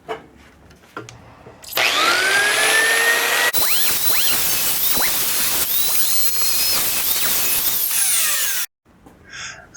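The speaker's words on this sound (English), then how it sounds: "I used a cutoff wheel to remove the square tip." A cutoff wheel grinding through a screwdriver tip, a loud, steady high-pitched abrasive whine lasting about seven seconds, with a quieter spin-up before and wind-down after.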